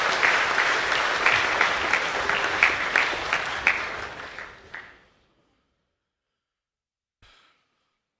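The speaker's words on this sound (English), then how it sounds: "Please give a round of applause for our Year 8 Rugby League winners." A school assembly audience claps for Year 8 rugby league winners, sustained applause with a few sharper claps that fades out after about five seconds, followed by near silence and a faint brief rustle.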